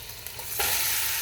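Meat for Ilokano papaitan hits a hot pan and sizzles loudly, a sudden burst of frying that settles into a steady close hiss while it is stirred, with no talking.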